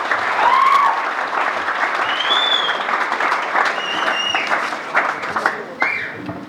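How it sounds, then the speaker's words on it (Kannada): Loud, sustained audience applause at a congratulation program for students who passed the army exam, dense clapping with some crowd noise and faint whistles running for several seconds. "ದಿನೇಶ್ ಅವರಿಗೆ ಜೋರಾದ ಚಪ್ಪಾಳೆಯನ್ನು ಕೊಡು"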